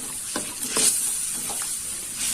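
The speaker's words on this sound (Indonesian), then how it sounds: "Kita aduk-aduk seperti ini sampai aromanya, bumbunya harum ya." Chicken pieces with spices and torn kaffir lime leaves sizzle steadily in a hot pan while a spoon stirs through them in a few scraping strokes, close and clear with no voices.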